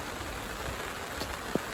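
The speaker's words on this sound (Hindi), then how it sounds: "बारिश बहुत हो रही है।" Heavy rain falls in Manali, in the Himachal hills: a steady, dense hiss of downpour across the whole stretch, with one brief sharper knock near the end.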